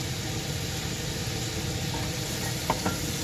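Leeks sizzling in a pan, a soft steady crackle and hiss at low level with a couple of faint clinks near the end, no talking.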